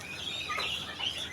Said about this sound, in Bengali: আর এদিকে দেখতে পাচ্ছেন টার্কি মুরগি